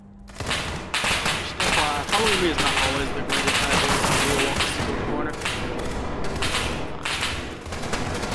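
Sustained rapid gunfire in SCP: 5K rattles in repeated bursts, loud and dense, with brief gaps between volleys and a voice occasionally audible underneath.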